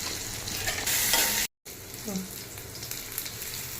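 Mint leaves sautéing in a pan for chutney: a steady, close sizzle with faint scraping of stirring, a brief cut to silence partway through, then the frying continues.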